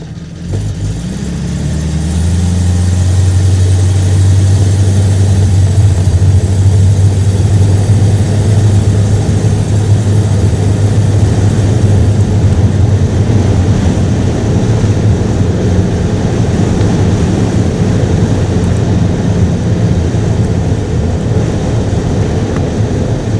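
Buick Roadmaster engine with a carburetor, rising from idle into a loud sustained rev as it accelerates, a deep continuous rumble heard up close for the whole stretch.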